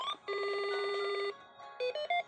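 Electronic telephone ring from a homemade Arduino game box: a steady buzzy tone held for about a second, then after a short gap three brief chirping beeps at rising pitch, close and moderately loud, with no voices.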